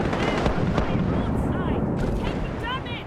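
A ship's cannons fire a broadside in Mount & Blade, loud booming shots in quick succession over rumbling noise, with voices speaking around the blasts.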